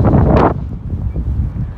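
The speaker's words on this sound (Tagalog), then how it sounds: "Hangin-hangin guys." Outdoors on a city walk in Gothenburg, Sweden, wind buffets the microphone in a loud rumbling gust that lasts about half a second, then settles into a softer, fluttering rumble.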